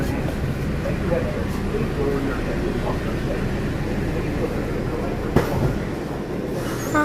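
A Walt Disney World monorail train passes with a steady rumbling roll and occasional clanks, while people talk over the continuous rail noise.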